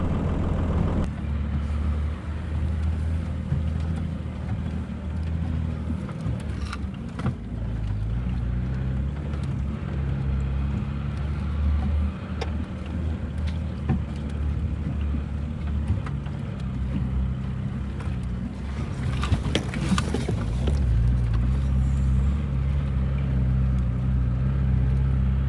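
Steady low engine rumble and road noise from a Nissan Patrol in motion in the mountains, continuous throughout with strong wind buffeting, no talking.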